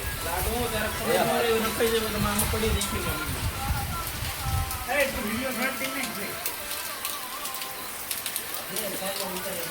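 Steady heavy rain patters down throughout in Botad, Gujarat, with birds cooing and calling over it and a voice talking in the background.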